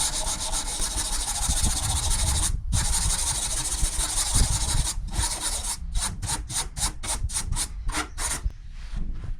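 Steady rasping sandpaper rubbing over body filler on a Ford Sierra Sapphire car shell, then a run of quick back-and-forth strokes in a regular rhythm, close and continuous.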